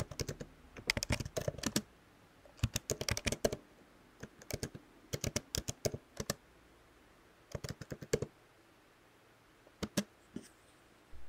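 A computer keyboard is typed on in quick bursts of clicky keystrokes, several clusters separated by short pauses, close and fairly quiet while a command is entered for setting up a Django project.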